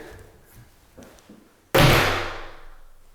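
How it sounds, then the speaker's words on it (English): A heavy solid core interior door in a barndominium under construction shuts with one loud, deep slam that rings and fades, after a few faint shuffles and knocks. "Oh, see, that's the solid core doors."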